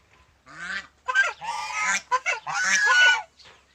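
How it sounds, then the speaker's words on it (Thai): Several farm geese honk loudly and close by, overlapping nasal calls in a steady cluster over about three seconds, with no talk. "เลี้ยงห่านมาเยอะนะครับ"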